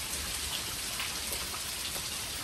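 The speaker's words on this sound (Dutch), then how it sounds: "Lekker die regen hier." Steady rain pouring down outdoors on Bonaire, a dense, even hiss of drops hitting the ground, moderately quiet and continuous with no one talking.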